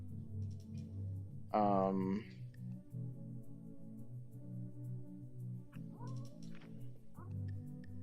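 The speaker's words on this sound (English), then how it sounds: "My cat is yelling at me." A house cat lets out a clear, drawn-out meow near the start, then a couple of fainter chirps later, all quiet over a low background hum from gameplay.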